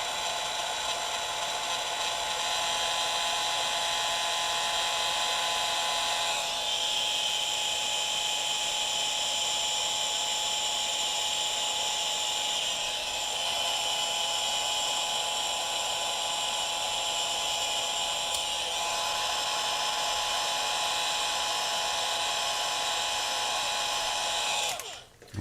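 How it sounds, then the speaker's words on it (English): A continuous heat gun hums with a steady, high whirring roar, unbroken and close by, with slight shifts in pitch, used on a car stereo wiring joint. "And I use a heat gun."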